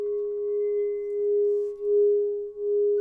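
A singing bowl rings with one steady, loud, pure tone that wobbles in volume in slow pulses, dipping twice before swelling again, with no voices.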